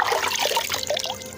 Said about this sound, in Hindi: अब सिकंदर ने जैसे ही पानी को पीने के लिए अपने हाथों में लिया